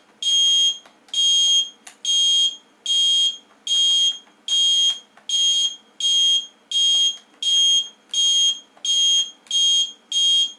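Electric airsoft bomb prop emitting a loud, shrill electronic beep in a regular repeating pattern, with roughly thirteen evenly spaced bursts that gradually come closer together as the countdown speeds up.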